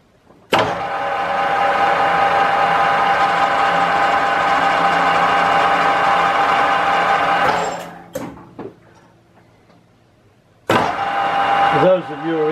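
A lathe turning at 270 RPM cuts left-hand threads on high-pressure pipe, a steady loud motor hum with cutting whine for about seven seconds, then spinning down to quiet with clicks before briefly starting again, with a voice speaking near the end.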